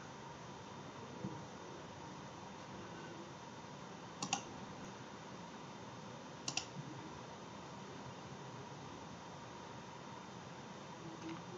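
A Logitech G102 Prodigy gaming mouse being clicked, a few sharp faint clicks, some in quick pairs, over a quiet steady fan-like room hiss.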